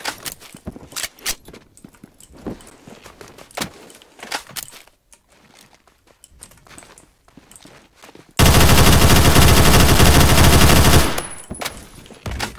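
An X95 SMG fires in Phantom Forces, first as scattered short bursts and sharp single shots, then one long, loud, uninterrupted burst of about three seconds before cutting off.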